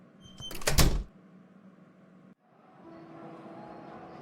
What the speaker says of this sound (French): Et ferme bien la porte en sortant.